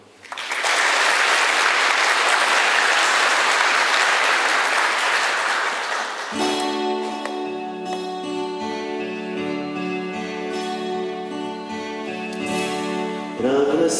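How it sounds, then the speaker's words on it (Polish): An audience applauds inside a church in Jasień: about six seconds of loud, dense clapping from many hands, which then cuts off as sustained music with clear tones begins. "Wielkie brawo."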